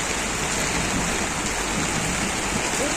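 Heavy tropical rain falls steadily in Santiago, a dense, continuous close-up roar of downpour with no gaps, no voices and no distinct events.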